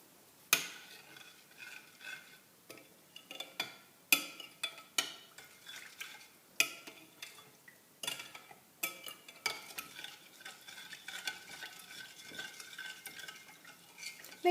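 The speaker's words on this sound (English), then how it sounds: "We're going to take our yeast and put that in as well. We're going to stir that up." A spoon stirs yeast into a whole wheat bread mixture in a bowl, loud clinking scrapes against the sides in an irregular, steady rhythm, close and unaccompanied by talk.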